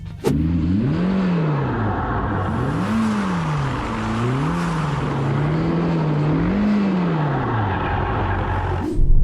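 A Ferrari Roma with stability control switched off, doing donuts, its engine droning steadily and wavering in pitch as the revs rise and fall through repeated circles, loud and close throughout with no talk.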